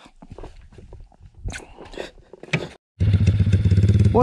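A 140 motorcycle, its engine cold-started after cooling down, bursts into a steady, close idle after scattered handling clatter and a moment of silence.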